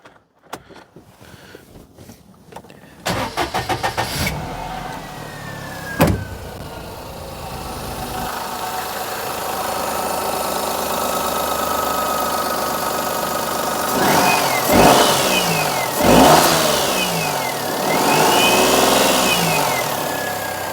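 Perodua Kenari engine cranking, catching and settling into a small-engine idle, then several rising revs blipped up and back down, loud and close with no talk.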